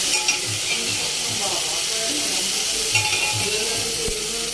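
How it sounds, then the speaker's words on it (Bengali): Boiled masoor lentils go into a pan of frying jute greens, giving a close, loud sizzle broken by repeated scraping stirs in a short rhythmic run, with no voices. "তো এর মধ্যে যে আমি ডালটা সেদ্ধ করেছিলাম, মুসুর ডাল, সে মুসুর ডালও দিয়ে দিচ্ছি।"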